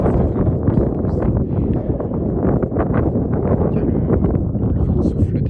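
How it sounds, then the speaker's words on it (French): Strong winter wind buffets the microphone outdoors in gusty, rumbling bursts of low roar, loud and continuous throughout with no break. "Le vent souffle déjà assez sensiblement aujourd'hui"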